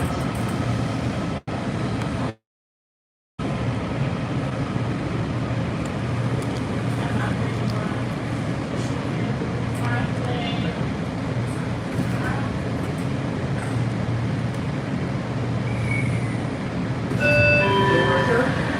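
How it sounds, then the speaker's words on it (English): Red line metro train carrying riders, a steady rolling rumble and hum from inside the car that continues throughout, with voices heard over it and a brief dropout near the start. "This is your red line train."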